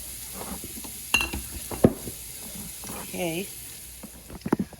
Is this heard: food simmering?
yes